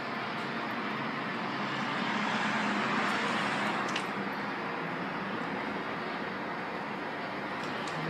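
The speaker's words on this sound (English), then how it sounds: "You can hear the motor." A Thyssenkrupp hydraulic elevator motor in a parking garage runs as a steady, loud broadband hum and whir that holds constant throughout, with no talk over it.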